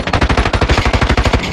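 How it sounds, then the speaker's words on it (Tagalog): Rapid automatic gunfire in a battleground multiplayer shooter video game: a loud, close, continuous burst of evenly spaced shots, with no talking. "Lakas ng baril niya."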